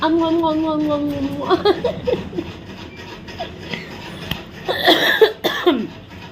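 A person with a heavy cold and congestion coughs in a few short, close bursts, mixed with voiced chuckle-like sounds and breathy vocal noises. Spoken words follow indoors.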